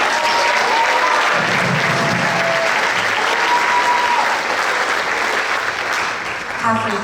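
Applause from a school orchestra concert audience for a student, sustained and loud, with a few voices underneath, tapering slightly near the end.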